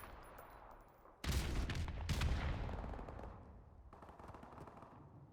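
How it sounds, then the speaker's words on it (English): Video game gunfire: sustained automatic weapon bursts blast in loud and dense, easing off into a steadier rattling background, with no talking. "maybe the gunfire is just way, way, way too loud and overpowering my voice"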